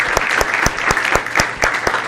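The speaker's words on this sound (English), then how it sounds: "give him a nice warm round of applause during this visit" Audience applause at a Bhagavad Gita lecture by HH Bhakti Sundar Goswami in San Diego, a dense steady round of hand clapping with sharp louder claps cutting through, close and sustained throughout.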